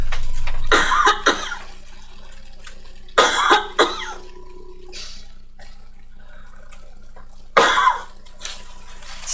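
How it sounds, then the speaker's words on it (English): One person coughs hard and repeatedly in a home kitchen, with three separate bursts of harsh, close coughing and throat clearing and quiet pauses between them. "I think I'm done coughing."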